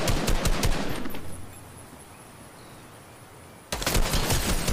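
Rapid automatic gunfire from a Fortnite match, loud bursts opening the clip, a quieter lull in the middle, then another burst of dense firing near the end.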